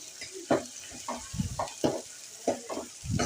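Onion, garlic, fenugreek, cumin and whole green coriander fry in a pan, a close crackling sizzle broken by repeated scraping stirs in an uneven rhythm, with no talking.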